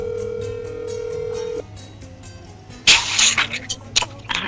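A steady telephone dial tone breaks off, and after a pause a brief burst of noisy handset clatter and line sounds follows. There is no speech.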